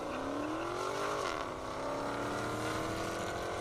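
A Dodge Challenger Hellcat drag racing on an airport half-mile strip in Indiana, its engine a loud sustained roar whose pitch climbs steadily, dips briefly at a gear change and then rises again.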